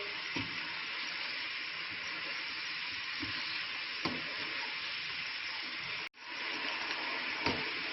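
Egg fried rice being stir-fried in a hot pan after soy sauce goes in, giving a steady loud sizzle with a few soft scrapes and one brief cutout near the end.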